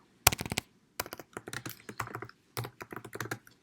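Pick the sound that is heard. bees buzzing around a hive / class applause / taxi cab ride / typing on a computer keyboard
typing on a computer keyboard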